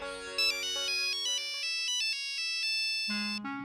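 A mobile phone plays a melodic electronic ringtone at close range, a quick run of bright tones that ends in lower notes, with no voices over it.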